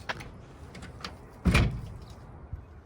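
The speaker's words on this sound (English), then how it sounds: "All the doors open and close." A door on a rusty 1963 Studebaker Lark is worked open and shut, giving a few light clicks and rattles and then one louder solid thud near the middle, heard up close with no talking.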